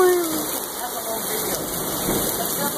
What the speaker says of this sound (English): Oh, it's like a storm.